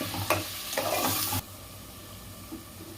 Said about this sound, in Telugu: ఆయిల్ వేడికిన తర్వాత ఉల్లిపాయ ముద్ద వేసుకున్నాం. ఇది పచ్చివాసన పోయే వరకు మనం బాగా ఆయిల్లో వేసుకోవాలి